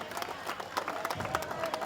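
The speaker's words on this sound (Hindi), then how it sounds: "तालियां तो बजा दीजिए" An audience claps at a neighbourhood Dussehra celebration in Lajpat Nagar's C block, a dense, continuous patter of many hands mixed with crowd murmur.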